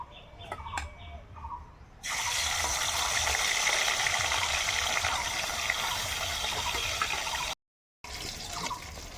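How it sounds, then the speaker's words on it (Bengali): Fish fried in hot oil for a dish with helencha greens bursts into a loud, steady sizzling hiss after a couple of quieter seconds, breaks off briefly near the end, then resumes. "তেল গরম হয়ে গেছে, আর মাছ ভেজে নেব।"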